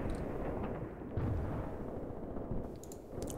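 Continuous low rumbling battle noise from mortar fire in the Graviteam Tactics war game, with a heavier thud around the middle and sharper distant pops near the end, dense and steady throughout.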